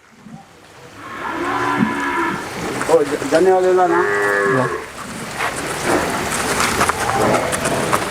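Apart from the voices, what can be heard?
buffaloes mooing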